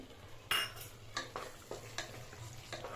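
A spoon scrapes and clinks in a pan as raw green peas are stirred into fried coriander and mint, with a handful of irregular, fairly quiet strokes over a faint background and no talk.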